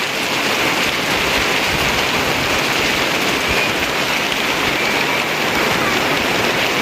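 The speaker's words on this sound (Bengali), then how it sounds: "আরে দেখো কি বৃষ্টি শুরু হয়েছে।" Rain falling steadily outdoors at a home, a dense, continuous hiss of drops on surfaces, fairly loud and unbroken throughout.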